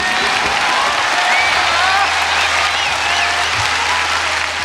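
A large audience at a live concert claps loudly and steadily throughout, with faint voices mixed into the dense applause.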